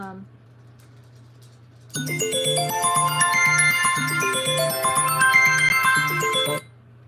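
A public phone rings with a steady, repeating electronic tone that begins abruptly after a quiet start, continues for about four and a half seconds, then stops.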